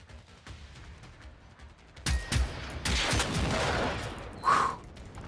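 Sniper rifle gunfire in the video game Generation Zero, a burst of loud sharp shots beginning partway through after a quiet stretch, followed by sustained noisy combat sound and one more sharp crack near the end.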